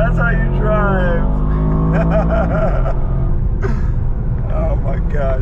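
Aston Martin DBX 707 SUV driven hard through corners, its engine note rising and falling loudly through braking and acceleration, with excited voices talking over it throughout.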